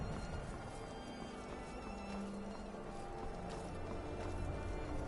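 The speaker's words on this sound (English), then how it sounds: "Horses all day." Horse hooves clip-clopping on the road in Skyrim, a soft steady patter of footfalls under a constant bed of wind and ambient game sound, fairly faint and continuous throughout.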